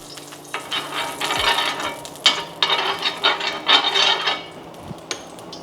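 American Wagyu skirt steak searing in a smoking hot pan, a loud, close sizzle and crackle that swells as the meat is moved around, with scraping and tapping from the utensil.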